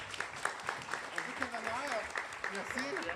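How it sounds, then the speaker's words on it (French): An audience at a French-language literary showcase applauds a guest from a café: soft, scattered clapping, fairly faint, with voices talking over it. "On peut l'applaudir, s'il vous plaît."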